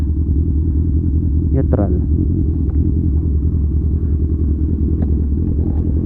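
A big bike motorcycle engine idles close by, a steady low rumble running throughout, with a few brief clatters and a person's short spoken word over it.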